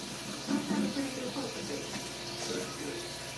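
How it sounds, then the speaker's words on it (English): Kitchen tap water running over mushrooms as they are rinsed under the faucet, a steady close rush of water with a faint murmur of voice beneath. "I'm going to quickly wash these off."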